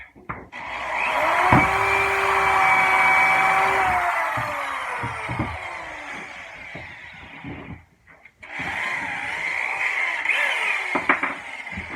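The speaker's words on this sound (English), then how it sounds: "I keep on switching out for the countersink." A power drill fitted with a countersink bit bores into wood while building a 30-foot dory, whining loudly for about seven seconds, then a brief pause, then a second steady run that ends in a few short bursts.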